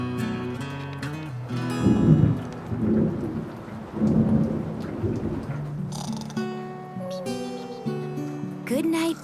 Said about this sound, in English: scary thunder and rain pouring down